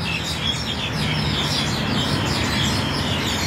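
Birds chirp and tweet among blossoming trees, with quick repeated calls heard over a constant outdoor background hiss.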